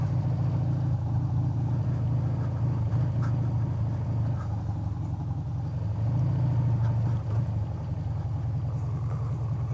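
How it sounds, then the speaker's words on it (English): A car rolls past a motorcycle stopped at a levee-side road, a steady low engine rumble and tire noise holding fairly loud throughout with a slight swell midway; no voices. "Go ahead and stop here and let that car go by."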